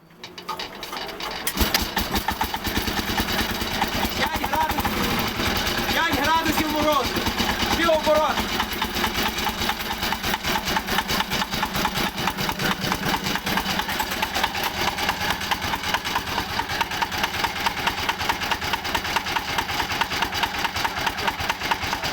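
Diesel walk-behind tractor engine idling, starting up after a second and then running steadily with a rapid, even mechanical knock from the fuel injector firing, loud and close, with someone talking over it.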